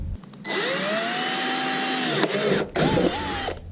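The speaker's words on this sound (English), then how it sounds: "I'm going to drill a hole through here" A power drill whines steadily at close range, drilling a hole while building a quail hutch, pausing briefly twice and then spinning up again.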